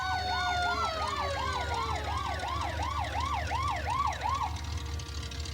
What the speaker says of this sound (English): There's another fire truck.